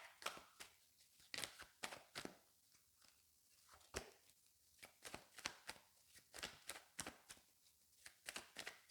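Quick bursts of tarot cards being riffled and shuffled close by, in irregular rapid flurries with brief pauses between them.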